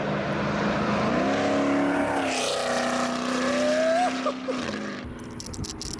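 Dodge Charger Scat Pack 392 with a CORSA full exhaust system revving, a loud deep rumbling engine note with rising and falling rev sweeps, then settling to a quieter idle at the end.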